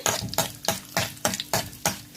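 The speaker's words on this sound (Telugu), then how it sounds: "వేగిపోయినాయి చక్కగా కరివేపాకు కూడా వేసేసా" Curry leaves fry in hot oil for a tempering poured over wood apple chutney, heard as about seven rhythmic, close-up bursts of sizzling and stirring over roughly two seconds.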